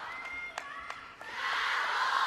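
A crowd chants and cheers at a men's doubles table tennis semifinal in China, with rhythmic bursts over a constant roar that swells louder toward the end, heard from across the arena.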